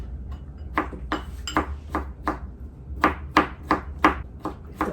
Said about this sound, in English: Slice it as chunky or as small as you want it to be.